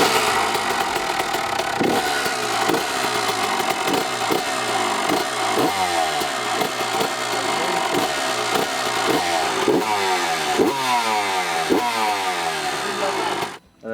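A restored Honda CR motorcycle engine with a vintage-style black plastic kit runs loud and close, with a steady revving drone and rhythmic throttle blips throughout before cutting off abruptly at the end.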